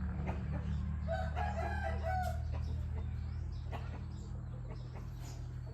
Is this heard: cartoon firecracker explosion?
no